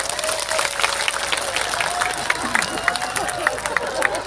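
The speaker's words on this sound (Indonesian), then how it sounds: "Tepuk tangan dulu dong." An audience at an Islamic religious talk claps together, a moderate, slightly uneven patter of hands with a faint murmur of voices underneath.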